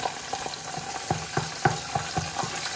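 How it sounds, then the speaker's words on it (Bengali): Onion hits hot oil in a pan and sizzles, while a utensil stirs it in regular knocking scrapes through the fry, close and fairly loud, with no voices. "এটা দিলাম পেঁয়াজ, তো পেঁয়াজের লগে বাজব।"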